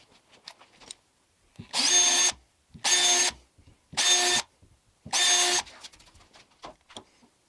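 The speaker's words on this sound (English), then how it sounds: "I'm going to pre-drill the holes." A power drill whirs in four short, steady bursts of about a second each, pre-drilling screw holes for a rolling outfeed table, with pauses and faint handling noises between them.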